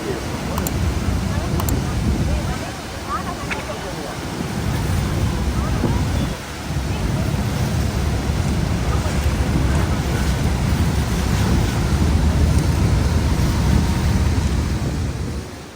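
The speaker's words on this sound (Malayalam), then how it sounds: "ആർത്തുല്ലസിച്ചു വരുന്ന വെള്ളച്ചാട്ടത്തിന് അരികിലൂടെ ബോട്ട് സാവധാനം നീങ്ങിത്തുടങ്ങി." Rhine Falls at Schaffhausen, Switzerland roars in a steady, loud wash of rushing water as a boat moves slowly alongside the waterfall, with wind buffeting the microphone.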